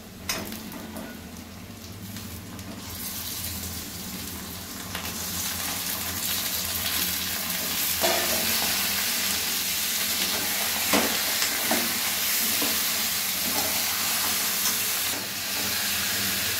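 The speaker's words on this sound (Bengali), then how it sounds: "পেঁয়াজের সঙ্গে মাংসটা কিছুক্ষণ কষিয়ে নিয়েছি।" Goat mutton sizzles steadily with reddish-fried onions in a pan, a loud continuous hiss and crackle with occasional stirring scrapes and louder spits, no voices.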